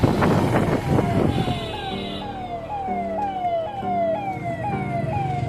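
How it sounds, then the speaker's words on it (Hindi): A police car siren wails on a road, its rising sweeps repeating steadily and fairly close, loud over a low hum of traffic. "पुलिस की गाड़ी आ रही है।"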